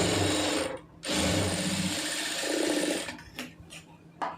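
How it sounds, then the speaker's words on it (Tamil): Stitching a seam on churidar fabric, a sewing machine runs in short bursts with brief pauses between them. Its close, mechanical whirring and clicking sound alone, with no talk. "இது வந்து துணி விலகாமல் இருக்கிறதுக்கு இதில் வந்து ஒரு தையல் போட்டுருங்க"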